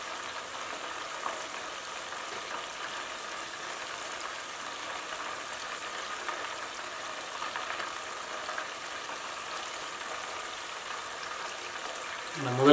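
KFC-style chicken wings fry in hot oil, giving a steady, soft broadband sizzle and bubbling that holds even throughout, with no voices over it.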